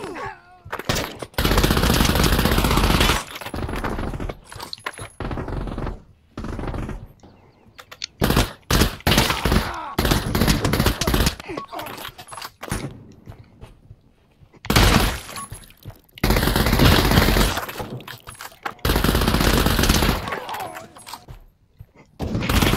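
Rapid automatic weapon fire in Pavlov VR, long loud bursts with shattering impacts, repeated in several volleys separated by brief lulls, close and dominant throughout.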